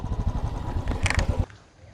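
A motorcycle engine idles close by at a homestay in Jhargram while the bike is being parked, rumbling steadily for about a second and a half before it abruptly cuts off, leaving quiet room tone.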